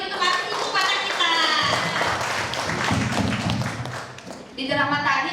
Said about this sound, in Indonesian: Oke, kalau seru, beri tepuk tangan sekali lagi untuk ibu kota kita.